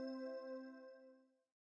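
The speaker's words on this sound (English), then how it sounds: "The bell rang." A school bell chimes once at the end of class, a clear ringing tone that sustains and fades away to silence within about a second and a half, with no talk over it.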